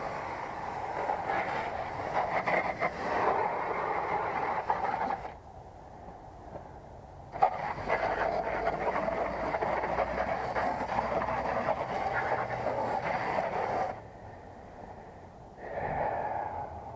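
A 2014 Amana 4-ton AC condenser hums and whooshes steadily nearby while a lawn mower cuts grass, the broadband drone dipping briefly twice before resuming.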